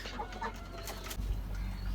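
A chicken clucks softly in a backyard garden among fruit trees and roses, a few short calls heard close by against a steady low background hum.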